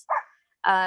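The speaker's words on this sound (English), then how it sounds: "apologies for the dog barking in the background" A dog barks twice in the background, a short bark, then a pause, then a longer, louder bark.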